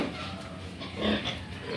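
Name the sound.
pig boar grunting on a farm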